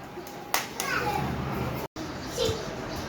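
A group of children clap their hands during a sit, stand, jump and clap activity. A couple of sharp claps cut through lively children's chatter and play noise.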